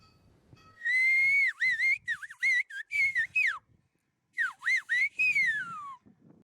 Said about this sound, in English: people whistle when they need to communicate from far